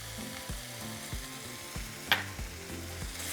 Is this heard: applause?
no